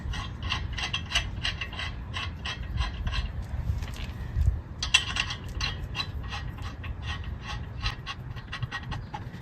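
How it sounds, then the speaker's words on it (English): Lug nuts are threaded by hand onto the wheel studs of a car during a tire change. Bursts of rapid metallic ratcheting clicks repeat close by, with brief pauses and a few louder knocks between them. "Now we're taking our lug nuts. You want to start them on each one."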